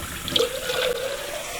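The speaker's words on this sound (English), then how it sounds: "Now we need to fill this up with water, and we're going to be filling it up with cold tap water." Running cold tap water pours steadily into a coffee machine's water tank, a continuous splashing hiss with a faint rising tone as it fills.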